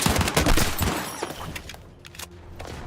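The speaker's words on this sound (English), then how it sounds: "You have the infantry layer, where teams exchange gunfire on foot." Infantry gunfire from a video game trailer: dense volleys of rapid shots crackle and rattle continuously, loud at first and tapering slightly toward the end, with no voices.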